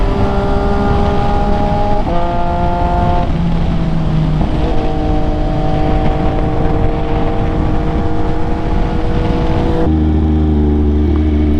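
An MV Agusta motorcycle engine while riding: a loud, continuous close drone whose pitch climbs in stages as it shifts through gears, then settles lower near the end.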